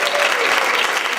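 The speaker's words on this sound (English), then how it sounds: "I just want everyone to give a round of applause for Mr." Audience applause at a regional television awards ceremony, a steady, dense wash of many hands clapping throughout the short moment.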